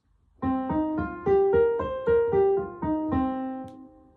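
A minor pentatonic scale played on a plucked, bright melodic instrument, eight separate notes rising steadily one per half second, each ringing into the next, with the last note sustained and fading.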